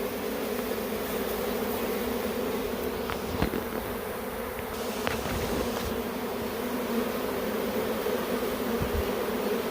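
A honey bee swarm buzzes as bees march out of a hole toward a new hive, a dense continuous hum close by with no voices.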